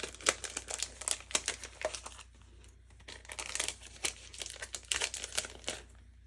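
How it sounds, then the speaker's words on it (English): A plastic die cut pack being opened up close, crinkling and crackling in irregular bursts with a short quieter pause midway, no one talking. "Let me open this. So then there's a die cut pack."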